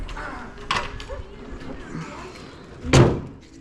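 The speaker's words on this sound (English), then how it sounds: "Let me put the hood down." The hood of a repainted EF-generation Honda Civic is shut with one sharp metallic slam near the end, after a softer thunk earlier, with low background noise between.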